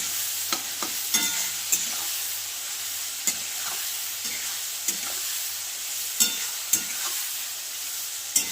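Onions and tomatoes fry with salt in a pan while being stirred, a steady close sizzle broken by repeated scraping and clinking strokes of the spoon, with no talk.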